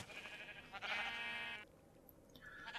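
Sheep in the video game Minecraft, grazing grass on an automated wool-shearing farm, give a few close, loud bleats, one long wavering call followed by a shorter one, with no talk.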